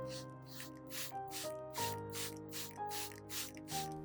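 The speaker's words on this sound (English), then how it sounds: "When spraying, make sure to mist both the upper and lower surfaces of the leaves" A spray bottle mists the upper and lower surfaces of peace lily leaves, giving a steady run of short, evenly spaced hissing spritzes over soft background music.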